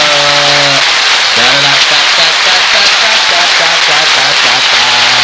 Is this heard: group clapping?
yes